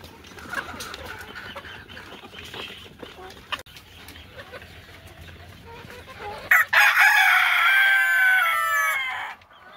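Golden Misri chickens cluck and crow nearby while eating, busy and noisy, with a loud burst of harsh crowing toward the end; faint voices in the background.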